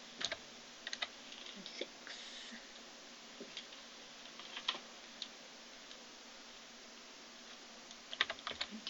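Values are typed on a computer keyboard in a quiet room: sparse, faint keystroke clicks come in short irregular bursts, and a brief spoken word is heard.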